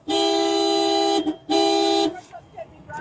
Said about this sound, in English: She even kept honking the horn to ignore officers.